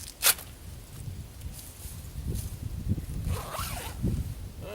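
A camping sleeping bag is unzipped outdoors in winter, a short sharp zip pull up close followed by soft rustling and a few longer rasping zipper strokes, faint and without talk.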